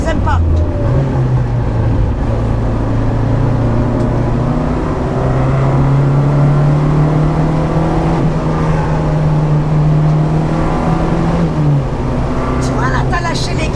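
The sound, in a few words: Renault 5 GT Turbo engine revving and throttle lifting while driving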